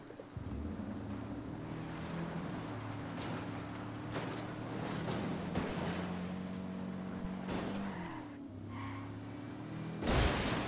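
A boat is driven in Ghost Recon Wildlands, its engine droning steadily with rushing water and wind noise, close and continuous, ending in a louder splashing burst.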